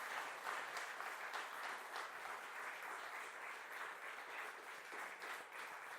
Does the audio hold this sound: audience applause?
yes